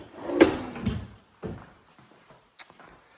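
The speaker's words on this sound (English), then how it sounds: "All of these are soft close, including the drawers." Soft-close wooden kitchen drawers shutting, giving a muffled slide and gentle thud, then a second quieter closing and a small sharp click near the end, heard close up with no talking.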